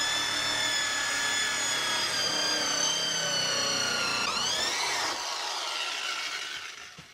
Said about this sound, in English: I'm just going to use a 1-inch hole saw and a hand drill